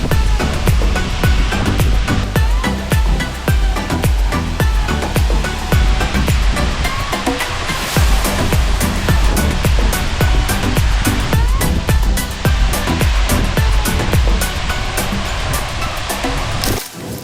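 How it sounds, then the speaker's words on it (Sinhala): Jodu Ella, a twin waterfall splitting into two streams in Sri Lanka, roaring in a loud, continuous broadband rush of falling water, close and unbroken. "ජෝඩු ඇල්ල කියන්නේ කොටස් දෙකකට බෙදිලා දෙපැත්තෙන් වෙන ලස්සන ඇල්ලක්."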